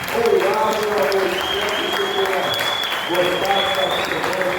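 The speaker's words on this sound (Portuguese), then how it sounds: "Salve de palmas do Gustavo" A round of applause breaks out at an aerospace engineering student talk show, a steady crowd clapping at fair volume, with a faint tone and some murmured voices mixed in beneath it.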